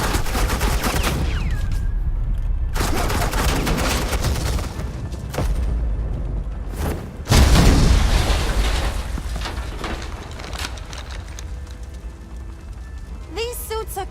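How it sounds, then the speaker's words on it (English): Sustained heavy automatic gunfire in the Batman Telltale video game, loud and continuous suppressing fire with bursts and booming impacts, a sharp blast midway, and a voice talking over the barrage. "Suppressing fire."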